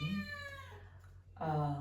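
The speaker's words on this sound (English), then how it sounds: "my kitten is here" A kitten meows twice, a harmonic cry at the start and a longer, louder one near the end, with a quiet pause between them in a calm indoor room.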